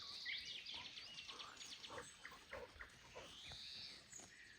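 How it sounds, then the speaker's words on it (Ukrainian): A small piglet on a dairy farm squeals and grunts in a series of short, high, close calls over a steady noisy background, with no talking. "Порося мале, ох і порося."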